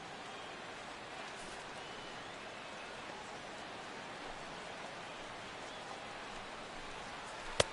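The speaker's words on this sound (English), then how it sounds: "The rain, as we've mentioned, coming down fairly steadily here at game time." Steady rain pours over a ballpark during a Detroit Tigers versus Minnesota Twins game in MLB The Show 16, an even hiss that holds all the way through, with a brief sharp tick near the end.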